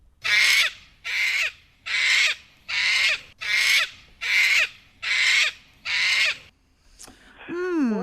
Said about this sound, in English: let's have a listen to a cockatoo in action.